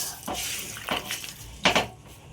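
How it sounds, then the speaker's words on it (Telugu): Tomato and onion being squeezed and mashed by hand in tamarind water, a few wet squelches and sloshes in a bowl, close and irregular, no talk. "ఇవన్నీ ఇలా స్మాష్ చేసేది గట్టిగా స్మాష్ చేయాలన్నమాట"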